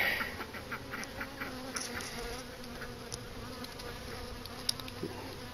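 Honey bees buzz steadily around an opened hive in spring, a soft continuous drone with faint scattered clicks and no talking.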